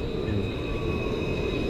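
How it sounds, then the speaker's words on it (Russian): A tram pulling into a stop in Béziers, France, with a steady low rumble and a high, thin whine that holds for a short stretch. "Вот наш трамвай подходит."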